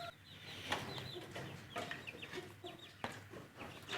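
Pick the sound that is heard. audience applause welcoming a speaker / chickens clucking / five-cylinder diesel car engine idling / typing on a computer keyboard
chickens clucking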